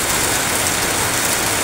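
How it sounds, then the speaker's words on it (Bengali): Heavy rain pours onto a house roof in Howrah, a loud, steady, dense hiss of water with no break and no voices. "এত জোরে বৃষ্টি হচ্ছে, দেখো ছাদের ওপরে কেমন জল পড়ছে"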